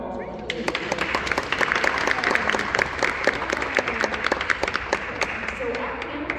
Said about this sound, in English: So round of applause for Philly.